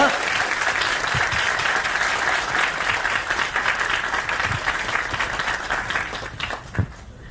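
An audience at a university student debate forum applauds to welcome former People Power Party leader Han Dong-hoon, with sustained, even clapping that thins slightly toward the end, with some voices mixed in.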